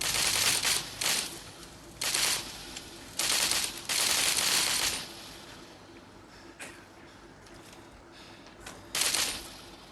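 Gunfire in the zombie shooter game Into the Dead 2, several bursts of rapid automatic shots in clusters, separated by quieter stretches of ambient game noise.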